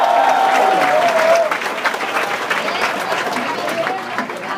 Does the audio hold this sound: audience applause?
yes